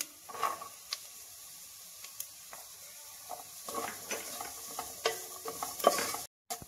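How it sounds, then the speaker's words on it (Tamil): Vegetables sauté in a pan with carrots, a soft sizzle running underneath while a spoon stirs and scrapes in intermittent clinks and shuffles, close up and fairly quiet. "பச்சை வாடை போகிற வரை நல்லா வதங்கட்டும். இப்போ கேரட் போட்டுக்கலாம்."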